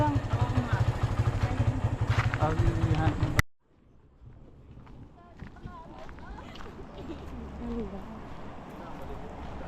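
Motorcycle ride out toward a river, its steady engine drone buffeted by wind noise, heard after a few seconds of people talking that stop abruptly.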